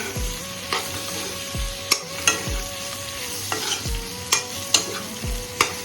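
Pork fried earlier and onions stirred in a pan over raised heat for a Naga-style dish with bamboo shoot and lai greens, giving a steady sizzle broken by repeated sharp scraping strokes of a utensil against the pan, close up with no talking.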